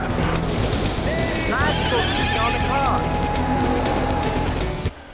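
Horses in the Daytona USA racing video game neigh and whinny loudly with galloping clip-clop hooves, over dense game engine noise and music, ending abruptly.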